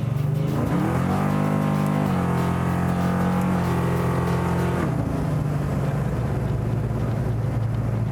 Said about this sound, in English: That was about half throttle.